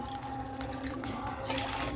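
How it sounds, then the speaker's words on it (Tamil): Water is poured into milk in a cooking pot while making aval kesari at home, giving a short, soft, continuous splashing trickle. "ஒரு கப்பு வந்து பால் ஊற்றியாச்சு இன்னொரு கப்பு தண்ணி இன்னொரு அரை கப்பு தண்ணி"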